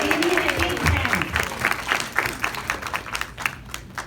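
An audience at a seniors' seminar gives a big round of applause, with dense, steady clapping from many hands filling the room.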